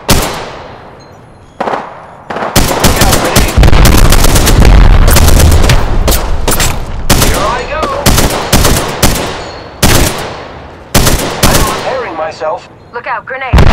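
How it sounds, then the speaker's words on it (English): Rapid gunfire from the video game Apex Legends, loud bursts of automatic shots packed close together after a brief quieter start, with game voice lines mixed in. "Opening fire on the enemy."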